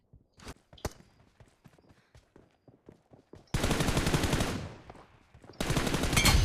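Gunfire in the mobile shooter BGMI during a team deathmatch, scattered single shots and footsteps giving way to two long, loud bursts of rapid automatic fire close up, with a brief lull between them.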